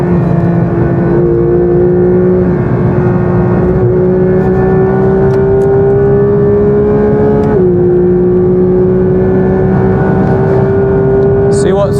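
A Porsche GT3 engine, fitted with an IPE exhaust upgrade, revs on the road toward 9,000 RPM in a loud, steady rising howl heard from inside the car, with a brief dip as it shifts before climbing again.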